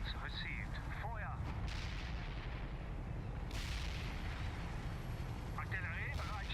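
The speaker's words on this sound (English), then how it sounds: "We can start a heavy barrage" Heavy artillery barrage in the real-time strategy game World in Conflict, a dense, continuous rumble of shell impacts and booming fire running throughout, with voices speaking over the battle noise.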